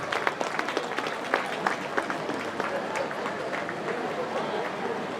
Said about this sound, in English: Let's also give a round of applause for all the former